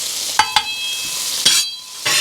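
Beef smash burgers sizzle loudly on a hot griddle, a bright steady hiss close up, punctuated by a few sharp spatula scrapes and taps.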